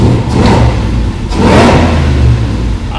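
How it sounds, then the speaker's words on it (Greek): A car engine runs with its exhaust in normal mode, giving a loud, steady, muffled rumble with a slight rise in revs partway through, alone without talk. "Αν ακούσουμε τον κινητήρα στο Normal Mode, οι εξατμίσεις ακούγονται πολιτισμένα."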